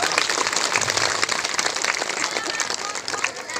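Audience applause at a live Nepali comedy show, a dense, steady wash of clapping that holds evenly throughout without pause.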